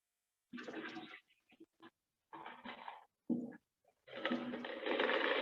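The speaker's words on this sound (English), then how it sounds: "We're going to pour the water back and start over." Water poured back out of a container holding big rocks, heard as bursts of splashing and gurgling with short pauses, ending in a longer steady pour, close and clear.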